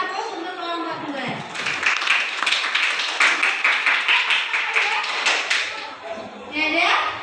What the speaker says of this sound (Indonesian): beri aplaus untuk kelompok kedua